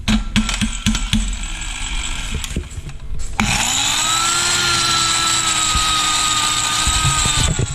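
A grinder working on the chassis of a slammed Stepside C10 lowrider sputters through rough, broken bursts, then catches and runs loud and steady with a high rising whine after stalling.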